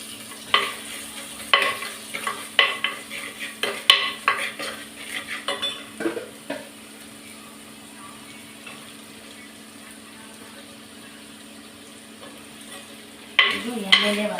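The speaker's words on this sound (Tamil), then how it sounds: "இது எண்ணெயிலே வதக்கிடலாம்" Brinjal and curry leaves sauté in oil as a utensil scrapes and clinks against the pot in a quick series of strokes for about six seconds. A quieter stretch of low sizzle follows, then stirring resumes briefly at the end.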